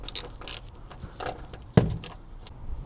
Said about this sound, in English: Let's undo these 10mm plastic bolts.